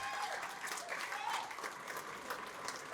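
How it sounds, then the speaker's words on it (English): An awards-night audience of landscapers gives Celeste a round of applause, a steady, fairly soft wash of clapping from a crowd in a hall, with some voices mixed in. "you want to clap for Celeste?"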